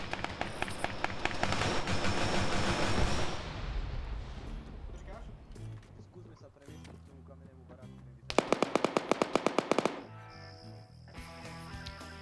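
Gunfire and grenade blasts in the ARMA video game, with rapid automatic bursts, booming explosions and a sharp rattling volley midway, layered with dense battle noise.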